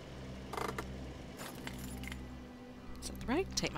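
Keys jangle in a couple of short metallic bursts over a steady low engine-like hum, with a voice speaking in the background, in a survival horror game scene at an asylum.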